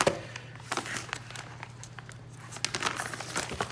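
Crinkling plastic packaging of a small soldering station being handled and opened nearby, with irregular rustles and crackles over a low steady hum.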